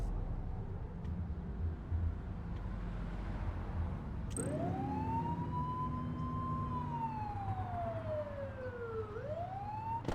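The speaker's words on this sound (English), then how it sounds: "Turn that siren off." A video game police siren wails, rising and falling in a slow sweep, loud and steady over a constant low engine rumble.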